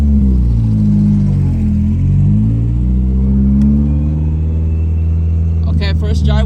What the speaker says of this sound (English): I can't believe we're driving this car.